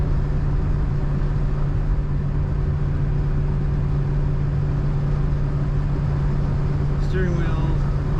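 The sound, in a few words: wind noise from 1969 Ford Falcon Futura door seal while driving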